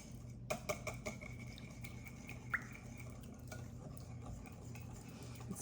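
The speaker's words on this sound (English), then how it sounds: "get the eggs mixed in and all the sweetened condensed milk" Eggs and sweetened condensed milk being stirred together in a bowl for a lemon crumb bar filling, with a few light clinks and scraping taps at the start over a low steady background hum.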